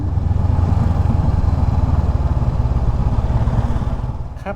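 Motorcycle carrying two riders on the road toward Pang Ung in Mae Hong Son, a loud steady engine rumble close to the microphone throughout, with no talking.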